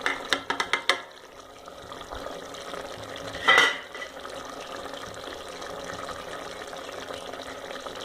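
Finely chopped tomato and curry leaves go into a pot of chicken curry and get stirred, with a few quick clinks and taps of the spoon at the start, a louder scrape midway, then a soft continuous simmer and rustle.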